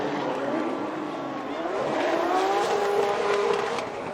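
A Toyota GR Supra drift car on Nitto tires roars through a Formula Drift bye run at Irwindale, its engine note rising and falling under loud tire squeal, heard from a distance with a commentator speaking over it.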